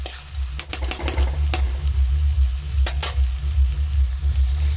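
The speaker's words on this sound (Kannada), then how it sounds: "ಆನಿಯನ್ ಫ್ರೈ ಆದ್ಮೇಲೆ ಜಿಂಜರ್ ಗಾರ್ಲಿಕ್ ಪೇಸ್ಟ್ ಹಾಕ್ಕೊಳತ್ತೀನಿ." Ginger garlic paste frying with onions in a pan, a continuous close sizzle with a low bubbling undertone, punctuated by several sharp scraping stirs of a utensil against the pan early and again near the middle.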